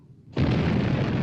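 A ship's cannon firing: one sudden heavy boom that starts abruptly after a quiet moment and rumbles on loudly without fading.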